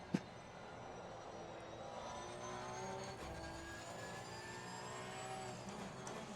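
Race car lapping the Spa circuit in Assetto Corsa Competizione, a steady engine drone with whining harmonic tones rising and shifting, continuous and moderately loud with no talk.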